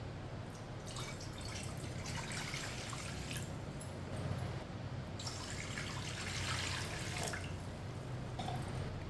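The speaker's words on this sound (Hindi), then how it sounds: "2 गिलास पानी डाल लेंगे।" Water poured into a cooking pot for homemade chicken soup, a steady, close trickle and splash running continuously for several seconds with no talking.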